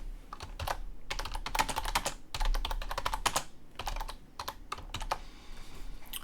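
Fingers type text on a computer keyboard in quick irregular bursts of clicking keystrokes, close and fairly quiet, with short pauses between flurries.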